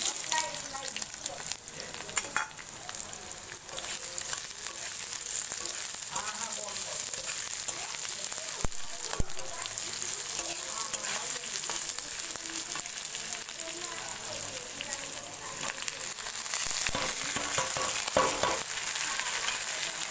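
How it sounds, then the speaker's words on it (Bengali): Onion and prawns fry in a pan with a dense, loud, continuous sizzle and crackle, with stirring scrapes and a faint voice mixed underneath. "পেঁয়াজের সঙ্গে ঘষো মাছটা, চিংড়ি মাছটা ভাজা হয়ে যাবে।"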